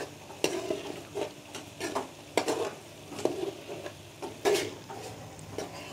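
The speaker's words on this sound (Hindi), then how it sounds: "चमचा आपने इसके अंदर जो है ना इसके अंदर मुसलसल हिलाते रहना है, ताकि जो पोटैटो का बैटर है वो नीचे ना लग जाए।" A spoon stirs potato batter for halwa in a pan over the flame, scraping and clinking in irregular strokes with a soft sizzle of frying underneath, close and fairly quiet.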